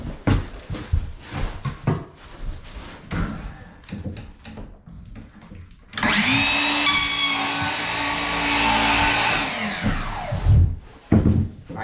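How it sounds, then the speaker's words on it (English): A chop saw cuts through a plank of laminate flooring in one loud, sustained whine that starts abruptly, holds steady for several seconds and then spins down, preceded by scattered knocks and handling clatter as the board is set in place. "I'm gonna be cutting all my flooring today with a chop saw"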